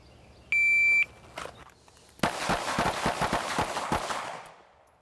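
Pistol shots in a timed five-round drill at five yards: a shot timer's electronic beep, a pause, then a rapid string of close, sharp shots ringing out in quick succession.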